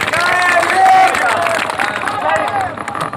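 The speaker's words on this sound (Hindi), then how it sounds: "जोरदार ताली हो जाएंगे" Applause and cheering rise from a crowd at a protest rally against NRC and CAA, a dense burst of clapping mixed with crowd babble and voices, loud and close.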